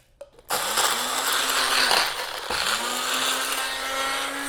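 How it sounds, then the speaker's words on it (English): A Magic Bullet blender grinding dried chiles into powder, starting with a click then a loud, steady whirring grind with a brief pulse midway, close and alone. "I'm grinding these down using a magic bullet blender"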